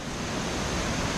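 Floodwater pours steadily over a full pond's emergency spillway after Hurricane Floyd, producing a constant, dense rushing roar with no breaks.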